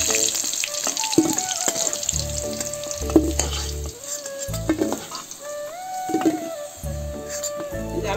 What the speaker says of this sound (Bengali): এই যে আলু কটা লাল লাল করে ভাজা হয়ে গেছে,